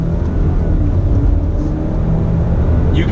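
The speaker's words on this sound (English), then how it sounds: "You can definitely feel the difference in acceleration, especially from the shifts on the gearbox." A 2019 Alfa Romeo Stelvio SUV with an 8-speed automatic in manual mode accelerates with a loud, continuous engine drone heard from inside the cabin, with no talking.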